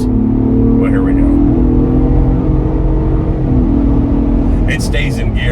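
A Ford Bronco Raptor with a +50hp performance upgrade accelerates, its engine a loud, steady, close drone that holds one gear for a long stretch.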